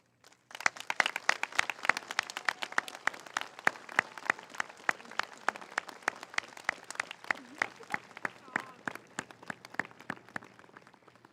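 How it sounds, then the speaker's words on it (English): A graduation audience applauds veterans of the armed forces, with scattered, distinct claps from fewer hands forming a sparse, steady patter that carries on for several seconds. "I would ask you to stand and everybody to applaud"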